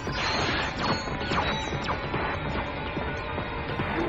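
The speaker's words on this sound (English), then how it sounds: "The noise the zombies make as they die is actually really satisfying." Zombies dying in the video game Ratchet: Gladiator on hard difficulty, a dense barrage of crunching smashes and impacts stacked over one another, loud and continuous for a few seconds with no talking.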